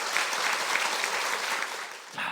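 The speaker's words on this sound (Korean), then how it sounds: "여러분 박수로 청해 보겠습니다." An audience at a public civic lecture on the constitution claps together, a steady, moderately distant wash of many hands that thins slightly near the end.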